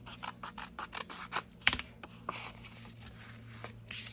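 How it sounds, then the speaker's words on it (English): Scissors snip the edge of paper for a Japanese-themed journal, a run of quiet, close cuts in an uneven rhythm with one sharper snip partway through and no talking. "Let me trim this edge though."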